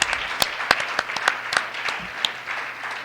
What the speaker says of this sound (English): How about another hand of applause for such fine, intelligent